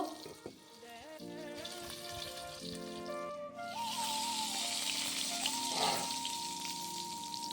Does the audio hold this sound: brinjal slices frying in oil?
yes